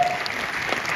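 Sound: applause

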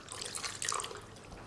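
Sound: water being added to chicken jalfrezi

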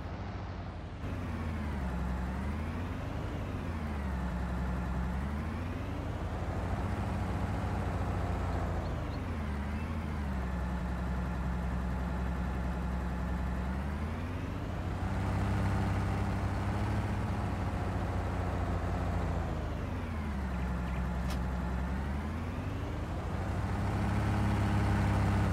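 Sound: Claas tractor engine running in Farming Simulator 19 video game

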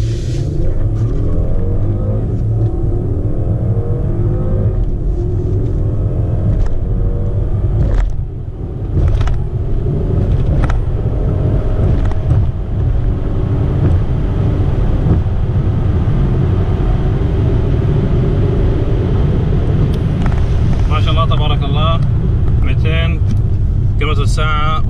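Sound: 2018 Mercedes S450 car accelerating

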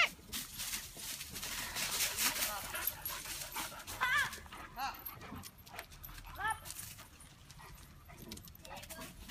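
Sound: dogs barking and panting

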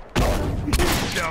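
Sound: bomb explosion in the video game The Last of Us

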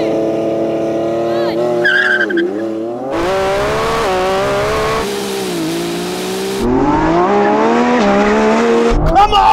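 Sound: supercar launching in drag race with wheel spin

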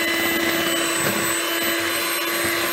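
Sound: electric mixer mixing sweet potato squares batter

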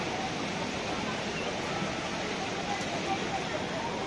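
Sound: small waterfall on the Jogini Falls trek, Manali

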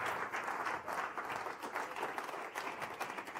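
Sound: audience applause, standing ovation

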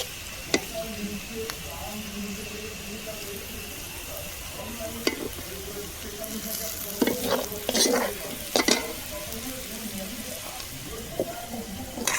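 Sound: boiled pasta frying and being stirred in a pan

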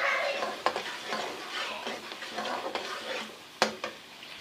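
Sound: frying onions with almond paste in a pan

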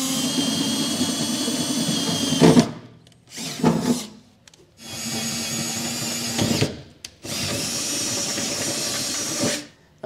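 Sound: drilling holes with a 9/16 drill bit in truck bed

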